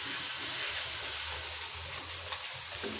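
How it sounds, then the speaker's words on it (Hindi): Spices for a Lahori-style chicken karahi fry in hot oil while being stirred: a steady, close sizzle that carries on throughout with a small clink near the end. "इसे हम 1 से 2 मिनट अच्छी तरह भून लेते हैं"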